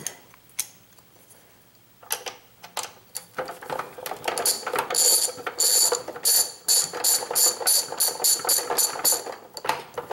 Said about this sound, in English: I do love this ratcheting screwdriver